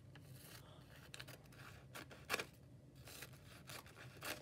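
Faint, close scissors snip through a paper bag to make tassels in a quiet room, a short series of crisp cuts and rustles with one louder snip partway through.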